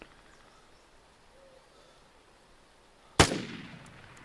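A single M16 rifle shot in the video game Vigor on PS4, one sharp loud crack after a quiet stretch, followed by a fading echo tail.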